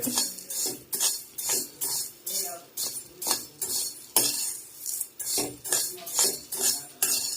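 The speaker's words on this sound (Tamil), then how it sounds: "கம்பை இளவரப்பாக வறுக்கிறோம்." Pearl millet being lightly dry-roasted in a pan, a spoon scraping and stirring the grains in a steady rhythmic pattern of repeated swishes and clinks, close up with no talking.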